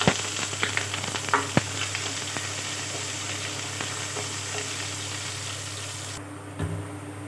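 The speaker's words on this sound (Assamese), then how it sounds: "আৰু এতিয়া মই ইয়াত কাটি ৰখা পিঁয়াজখিনি দি দিছোঁ।" Chopped onions frying in a pan with cumin seeds and a dried red chili, giving a steady, close sizzle with occasional crackles and pops. The hiss continues without pause and drops off near the end.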